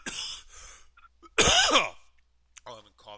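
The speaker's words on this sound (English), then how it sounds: "I got my COVID cough going." A person with a COVID cough coughs and clears their throat in a couple of harsh bursts, close up, with a brief bit of voice at the end.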